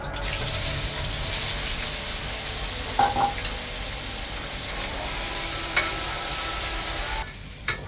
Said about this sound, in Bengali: এখন এই তেলের মধ্যে এসবটা ভেজে নেব।